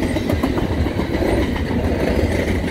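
A CN intermodal freight train slowing down in Montmagney, Quebec rumbles loudly and close, wheels clacking over rail joints in a steady low rolling drone.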